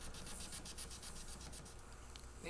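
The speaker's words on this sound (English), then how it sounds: "Now I'll get scraping and sanding off these super glue marks." Steady dry rasping and rubbing as super glue marks are scraped and sanded off the fretboard of a Silvertone Espanada H64 guitar, a continuous close scratchy texture with no pauses or voices.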